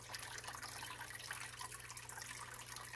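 Water flows steadily through a fish tank filter with the flow turned down low, giving a continuous close trickle and splash with a low hum underneath and no talking.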